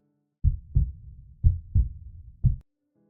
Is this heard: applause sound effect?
no